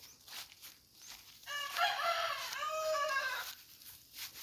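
A single rooster crow rings out from a labuyo jungle fowl and bantam cross pairing, a drawn-out call lasting about two seconds, fairly close against a quiet outdoor background.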